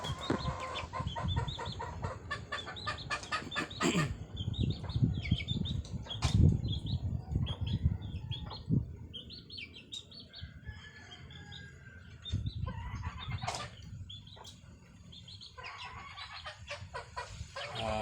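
Chickens cluck and chatter continuously nearby, with occasional rustling and wing flaps over a busy low background.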